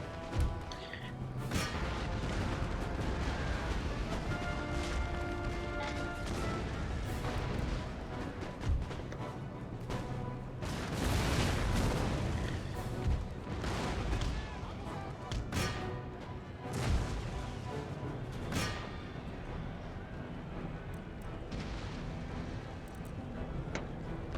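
Cannons firing canister shot in a large naval or field battle in Empire: Total War, heavy booms landing every few seconds among rumbling gunfire and crashes, dense battle noise throughout.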